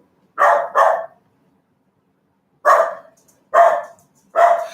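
Dogs bark loudly and close by, a quick pair of barks, a pause of about a second and a half, then three more evenly spaced barks, with quiet in between.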